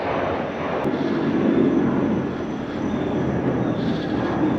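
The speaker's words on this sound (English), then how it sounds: "We've got a plane overhead." Airplane passing overhead outdoors beside a Land Cruiser Prado 90, a steady broadband roar that swells gently and holds for several seconds without speech.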